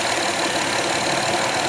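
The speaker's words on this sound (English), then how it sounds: "obviously this engine is running okay" A car engine idles steadily and loudly, a constant dense rumble with no pauses, heard on its own without talking.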